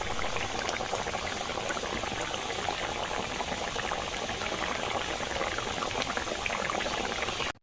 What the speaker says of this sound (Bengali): দেখো কেমন টকবক করে তরকারিটা ফুটছে, এরকম আওয়াজ শুনতে খুব ভালো লাগে